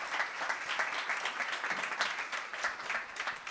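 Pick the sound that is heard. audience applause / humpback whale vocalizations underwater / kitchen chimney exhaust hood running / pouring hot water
audience applause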